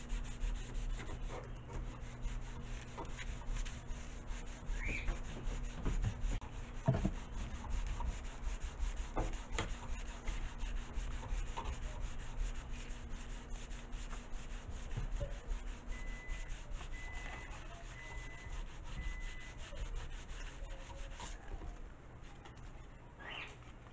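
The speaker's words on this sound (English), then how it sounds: "we're just going to take our sanding block. We're going to sand off that roughness" A sanding block rubs over machine-finished wood for an elastic-launched glider, a faint, steady scratchy rasping that continues for the whole stretch, with a low background hum and a few soft birdlike chirps.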